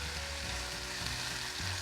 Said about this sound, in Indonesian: Kita masak tumisan ayam sampai airnya menyusut.